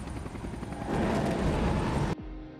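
A helicopter in a Jackie Chan action film roars loudly with dense rotor chop, growing stronger before cutting off abruptly near the end.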